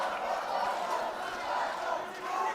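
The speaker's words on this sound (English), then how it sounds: "You can hear the crowds chanting Shai" Rugby crowd at a Sri Sumangala College versus Isipathana College schools league match, a dense wall of voices chanting and cheering steadily throughout, loud and continuous with gentle swells in intensity.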